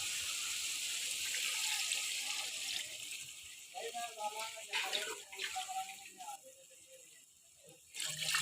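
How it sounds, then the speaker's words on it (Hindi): Water gushes into a cooking pot, two cups added for making Chinese-style rice, a steady splashing pour that breaks into gurgling and fades, then resumes at the end; quiet and close. "अब इसमें पानी ऐड करेंगे। जो हमारे पास ये वाला 1 कप था, पानी के 2 कप ऐड करेंगे।"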